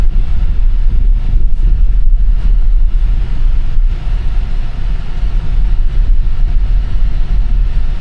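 A Tesla Model Y Dual Motor crawling over a bumpy off-road track, heard from inside the cabin as a loud, steady low rumble of tires and suspension, broken by occasional thuds and jolts from big hits.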